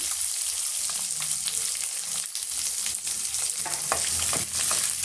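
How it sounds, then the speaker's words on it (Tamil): Chopped onion, garlic and curry leaves sautéing in a pan for a quick chutney, a continuous bright sizzle broken by sharp scraping stirs of a spatula, close and fairly loud. "இப்போ நம்ம கட் பண்ணி வச்சுருக்க வெங்காயம் வெள்ளைப்பூண்டு கருவேப்பிலை எடுத்து இதில் சேர்த்துடலாம்"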